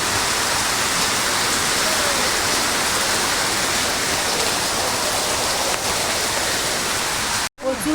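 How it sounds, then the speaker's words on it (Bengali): Rainwater rushes along a stream in a downpour, a dense, steady, loud hiss of flowing water that fills the whole stretch without a break. "জলের স্রোত হয়ে বেরিয়েছে"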